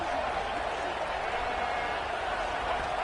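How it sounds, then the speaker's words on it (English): A stadium crowd at a college football game roars in a sustained, broad wash of cheering as the defense holds in the red zone, steady and distant, with a commentator talking over it. "the crowd coming to life here, trying to help this defense down in the red zone"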